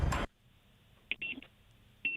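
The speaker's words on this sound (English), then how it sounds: "they gave me the little buzzer, so when my burgers are ready" Restaurant pager buzzer at a drive-in, giving short electronic beeps in two or three brief bursts after a loud opening thump, with quiet gaps between them.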